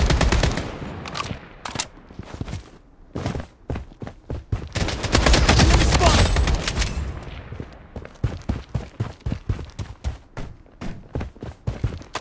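Rapid bursts of gunfire in the BloodStrike shooter, sharp repeated shots in quick clusters with a dense, louder volley near the middle, then steady spaced cracks continuing to the end.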